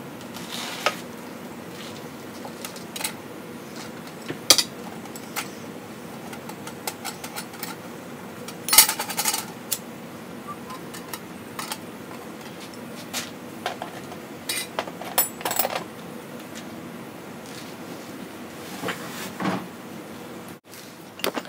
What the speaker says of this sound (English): And we'll take these covers off, get to where we can pull the flywheel off.